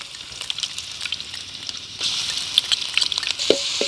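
Crushed garlic and ginger fry in a hot pan of oil with curry leaves for a Kerala-style duck roast, a steady close sizzle that grows louder and busier halfway through, with a few sharp crackles and spatters near the end.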